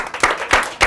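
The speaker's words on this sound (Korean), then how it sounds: "자, 큰 박수" Short burst of clapping from parents at a school information session, a few loud claps rising and falling over under a second.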